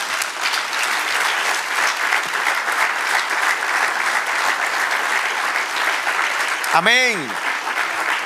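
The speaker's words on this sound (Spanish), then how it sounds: "Dale otro aplauso al Señor" A church congregation applauds steadily and fairly close for about eight seconds, the dense clapping only briefly overlapped near the end by a single spoken voice.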